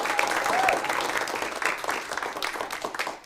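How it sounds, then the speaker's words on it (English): Audience applause for the coaches at a county poetry recitation competition, a crowd clapping steadily with faint voices mixed in, gradually tapering off. "Let's give them a round of applause"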